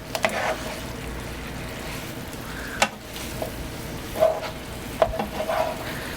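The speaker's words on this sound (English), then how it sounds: "So now you're just going to stir it in, and you'll notice your sizzling has slowed down." Pepper is stirred into a frying pan while the oil keeps up a soft, steady sizzle, broken by a few scraping stirs of the spoon against the pan, heard close and fairly quiet.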